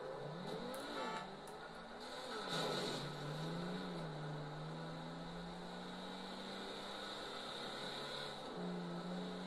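Engine of a video game car revving and driving, a whining motor tone that climbs, dips and then settles into a steady drone, moderately loud, with a brief rougher burst early on and no talk over it.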